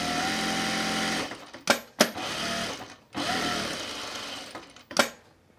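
A sewing machine runs long stitches to mend a torn napkin, buzzing in two sustained bursts with sharp clicks and short stops between them, close and moderately loud.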